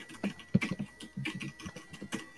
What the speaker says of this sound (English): There's so much typing.